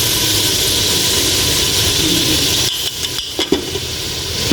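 Meat fries with ginger garlic paste as it is stirred in a pan for arvi gosht, a loud steady sizzle that drops away near the end into a few soft scrapes and clinks.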